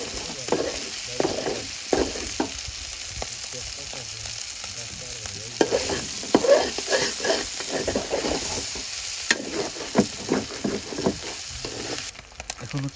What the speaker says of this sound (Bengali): চিংড়িটাকে জাস্ট খেঁচানো হচ্ছে হ্যাঁ কষানো